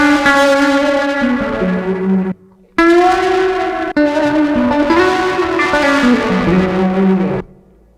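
Electric guitar pushed through heavy distortion with the input cranked and a noise gate, sounding as loud, sustained, buzzing chords that chop off abruptly into silence between phrases, with a reverb tail.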